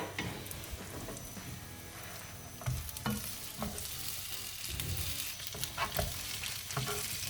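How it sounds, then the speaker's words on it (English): Sweetcorn fritters frying in a pan, a dense continuous sizzle and crackle close up, with a few louder spatters and light pan knocks, no voices. "Okay, so we've been cooking for about 5 minutes on one side. Now we're going to flip them over."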